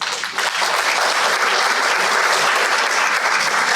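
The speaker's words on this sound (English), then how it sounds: "Clap for yourself." Seminar audience applauding in a presentation hall, a dense, steady wash of many hands clapping that holds at full strength throughout, with a slight dip near the start and no voices over it.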